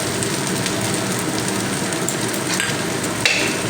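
Vegetables, boiled carrot and potato, stirred and frying in a pan with chopped onion and green chili, giving a steady close sizzle with scraping stir noises throughout.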